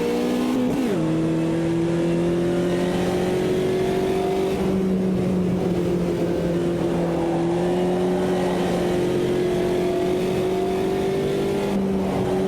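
Race car engine in the Automobilista 2 sim racing game holds a steady, loud drone through a corner drift, with a brief dip in pitch near the start and then a level sustained tone.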